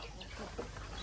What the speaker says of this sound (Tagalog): Marami na tayong mga manok dito